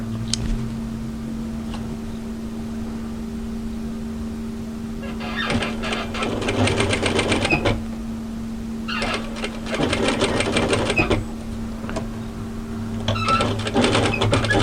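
A sewing machine stitches binding along the edge of a dress in three clear runs of rapid, steady whirring, separated by quiet pauses, close and fairly loud with no talk.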